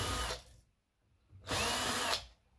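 Power drill unscrewing fasteners from an old computer monitor, two sustained whirring bursts of under a second each separated by a short quiet gap, close and loud.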